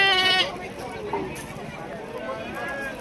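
Sheep or goats bleat at a large goat and sheep market in Shirur taluka, Pune district, Maharashtra: a loud, wavering bleat opens, followed by market din and another drawn-out bleat near the end.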